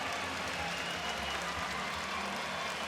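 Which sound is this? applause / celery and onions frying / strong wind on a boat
applause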